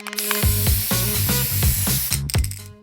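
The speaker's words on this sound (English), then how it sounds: "spray cans, an amazing tool." Aerosol spray paint cans hiss in a series of sharp bursts, each paired with a low mechanical rattle as the can is handled and shaken, loud and close with no talk.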